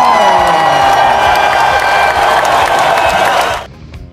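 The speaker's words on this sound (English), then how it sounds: "Let's give them a big Newton round of applause" Loud applause and cheering fill a school celebration assembly, children clapping and whooping together in a dense, close burst that cuts off abruptly near the end.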